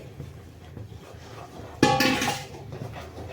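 Wheat flour is stirred into water in a pot for khichiya papad: quiet scraping, then a sharp metallic clatter of a utensil against the pot, fading into softer rubbing.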